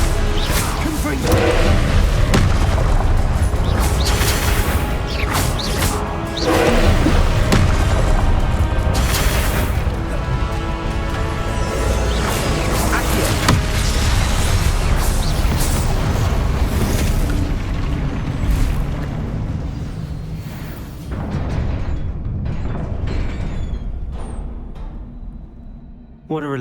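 Repeated booming, crashing blasts of the Confringo explosive spell in Hogwarts Legacy, loud and dense over a sustained stretch with swooshing bursts, fading toward the end before a final hit.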